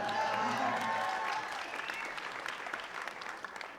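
Scattered applause from a small audience at a Comic Con panel, thinning out over a few seconds, with talk briefly over the start.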